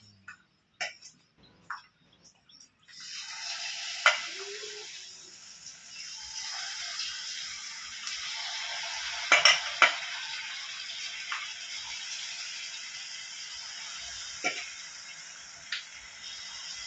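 Banana fritters dropped into hot sunflower oil for a Janmashtami offering sizzle steadily and close by, with crackling pops and a few sharp ticks rising over the continuous hiss, with no talking.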